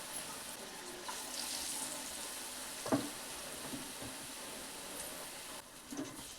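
Batter-coated green chillies for Hubballi-Dharwad style mirchi bajji deep-fry in hot oil with a soft, steady sizzle and a few brief bubbling bursts, close by and quiet, with no talk.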